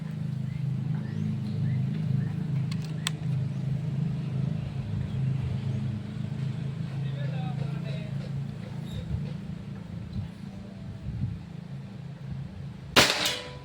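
A single sharp shot from a Predator Pajero Gen 6 air gun cracks near the end, following a stretch of low rumbling background noise and faint handling sounds.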